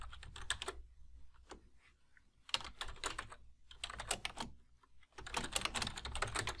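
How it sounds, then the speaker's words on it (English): Typing on a computer keyboard at close range: clusters of quick key clicks in several bursts with short pauses between them, alone without any talk. "So we'll just type it back in."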